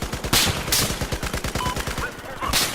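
Rapid bursts of PKP machine gun fire in the video game Battlefield 4, a steady loud automatic rattle with sharp individual shots throughout, plus a few brief bright blasts, with no speech over the firing.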